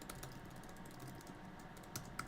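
Someone touch-types commands on a computer keyboard, giving quick, light key clicks in an uneven stream at close range, with a couple of sharper taps near the end and no talking.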